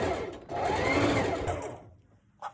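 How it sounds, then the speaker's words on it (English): A sewing machine runs in a steady fast whir stitching across the bottom of a fabric mask at a quarter-inch seam, loud and close, then stops with a small click. "Now remember, we're sewing again at 1/4 inch just across the bottom."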